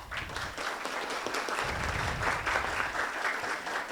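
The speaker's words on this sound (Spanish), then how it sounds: "Con ustedes la doctora Catherine Zurita, para quien pido un aplauso." Audience applause at an academic event welcoming someone speaker, a full steady clapping wash from a seated crowd in a hall, sustained and even throughout with no speech.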